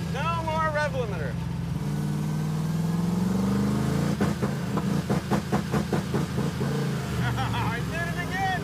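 The Hemi-swapped Gremlin's engine drones steadily and close, then rises through revs with a pulsing stutter as if hitting a limiter, with voices talking over it at start and end.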